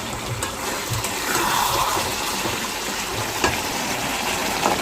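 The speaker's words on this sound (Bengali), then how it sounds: "এবার জল দিয়ে দেবো ঝোলের।" Water poured into a pan of meat curry with new potatoes, a steady rushing gush mixed with light sizzling, moderately close, with a few small clinks.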